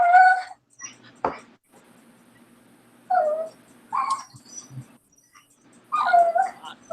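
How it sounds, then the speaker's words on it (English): A dog whimpers in several short, high, whiny bursts separated by pauses, close by and fairly loud. "Who is that dog crying?"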